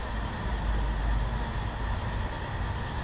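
A Class 222 train in Train Simulator 2020 runs at speed with a steady, dense engine and rail rumble that holds constant throughout, no voices.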